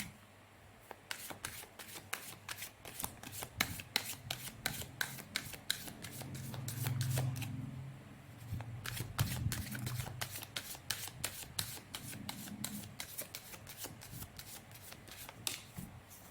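Tarot cards being shuffled by hand at close range, a steady run of crisp riffling slaps and soft rubbing that swells in the middle and continues for the whole stretch with no talking.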